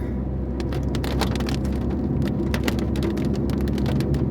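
Steady rain on a road in Wayanad, a dense continuous hiss of falling water with a constant low rumble underneath, likely passing traffic, and no talk.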